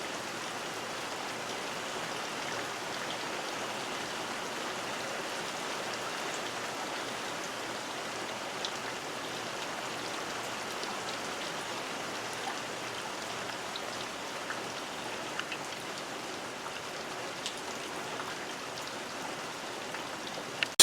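Steady rain falls on a shed in Prescott, Arizona, making an even, continuous patter and hiss with occasional sharper drops, faint and unbroken for the whole stretch.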